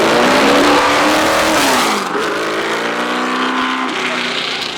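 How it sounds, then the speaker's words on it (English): A four-wheel-drive Marsh Special V8 hillclimb car roars loud and close at a Shelsley Walsh championship meeting, its engine note climbing hard, then dropping and fading slightly as it pulls away. "6 times champion Tony Marsh brings out the famous 4-wheel drive Marsh Special V8 in which he took his very last title"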